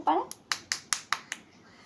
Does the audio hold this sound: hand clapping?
yes